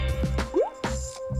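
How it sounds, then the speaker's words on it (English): Food coloring is poured into a water bottle, giving a few quick, close drips and small plops of liquid that come one after another. "Now for the food coloring. I'll just pour some of it into the bottle."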